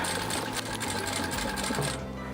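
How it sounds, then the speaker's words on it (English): A sewing machine runs at a steady fast rhythm, stitching the final seam of a floral dinosaur-print water bottle bag, then falls quiet just before the end. "This is literally the last line of stitching that we're doing."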